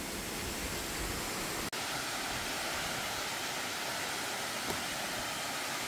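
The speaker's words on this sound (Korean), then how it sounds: "이것이 용연 폭포입니다" A steady, dense roar of Yongyeon Falls, a two-tier waterfall about 10 m high in Juwangsan's valley, fills the scene evenly, with a single sharp click partway through.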